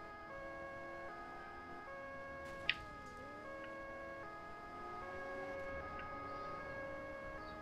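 Ambulance siren in the Alarm für Cobra 11 driving game, a steady wailing two-tone siren with a brief pitch dip, heard over a continuous game soundscape with a single sharp click.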